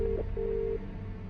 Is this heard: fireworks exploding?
no